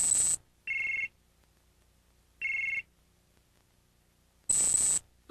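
A telephone rings just before a call is answered in the 1994 anime Sailor Moon S: four bright electronic bursts alternating between high and lower tones, separated by silent gaps, close and clear with no talking.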